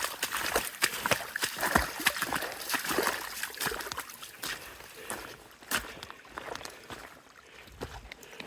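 Stream water trickling down through rocks and grass on a mountain trail, a continuous close splashing and dribbling with scattered sharper splashes.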